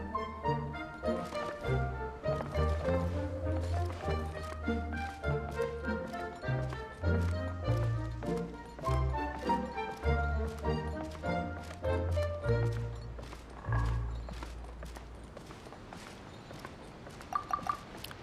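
Horse hooves clip-clop in the Genshin Impact video game, a steady rhythmic run of light taps mixed with game music and effects, moderately loud throughout.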